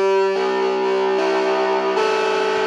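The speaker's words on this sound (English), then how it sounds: "Put quite a lot of distortion there." A RISA electric tenor ukulele in a telecaster style, played through an amp with heavy distortion, rings out sustained chords for a few seconds, loud and alone with no talking.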